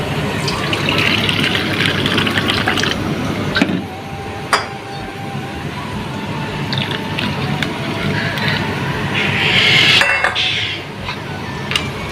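Hot water gushes and splashes steadily onto flour in a kitchen pan during home cooking, a continuous close pouring hiss with a few clinks of utensils and a brief lull midway.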